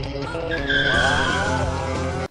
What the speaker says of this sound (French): Fais un dérapage avec l'overboard cart